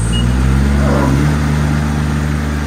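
A Kubota combine harvester engine runs loud and close with a steady low diesel drone and rhythmic throb throughout, without talk.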